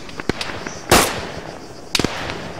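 Airstrike explosions in the video game Arma 3: two sharp, loud blasts about a second apart, the second followed by a quick rattle of smaller cracks, with quieter pops scattered between them.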